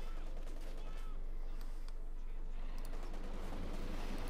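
Artillery barrage and gunfire in the Company of Heroes 2 strategy game rumble through a dense battle mix of distant booms and crackling shots, with a commentator talking throughout.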